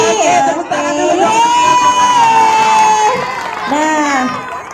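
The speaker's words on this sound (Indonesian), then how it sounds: "Oke, tepuk tangan dulu." Elementary schoolchildren in a Pontianak classroom cheer and shout together in loud, drawn-out voices, with only faint hints of clapping beneath the chorus.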